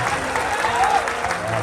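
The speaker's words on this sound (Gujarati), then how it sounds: "ગુજરાતની પોલીસને જોરદાર તાળી વધે તો યાર." A crowd claps for the Gujarat police at a night folk music gathering during a religious festival, a dense, steady burst of applause with a faint voice underneath.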